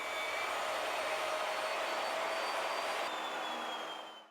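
Router cutting wood in a Leigh FMT mortise and tenon jig, a loud steady high whine held for about four seconds before spinning down at the end, with no talking.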